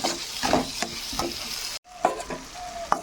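Spices for an egg and yogurt curry are stirred in a pan over a low flame: a close, gentle sizzle with repeated scraping strokes of a spatula and a short pause midway, with no talking.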